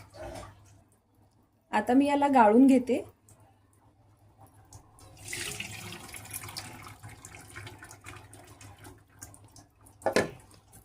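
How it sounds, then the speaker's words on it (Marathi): Boiled noodles are drained through a strainer, giving a few seconds of rushing, splashing water, with someone talking around it. "आता लगेच मी याला गाळून घेते।"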